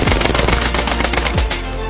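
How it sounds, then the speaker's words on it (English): Automatic PCP air gun firing a rapid burst at targets on a shooting range, loud dense repeated shots in quick succession for nearly two seconds without talk. "we're gonna commence firing in 3, 2,"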